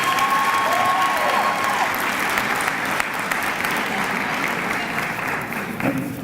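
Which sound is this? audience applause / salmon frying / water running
audience applause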